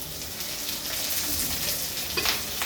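Chili powder, turmeric, bay leaves and green chilies frying in hot oil for a taro stem dish, giving a steady close sizzle with soft crackles and a few brighter pops, no talking.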